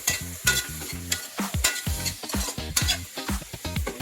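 Mixed vegetables and pork seasoned with white pepper are stirred in a sizzling pan, a steady frying hiss broken by frequent scraping and clinking strokes of the utensil, close and continuous with no talking.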